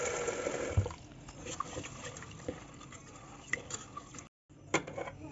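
Moong dal being rinsed in water in a pot, with close sloshing, splashing and light clinks of the vessel, followed by a brief gap and a few more scattered knocks.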